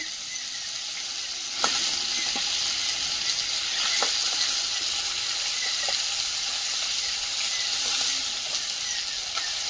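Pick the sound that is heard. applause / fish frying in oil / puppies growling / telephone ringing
fish frying in oil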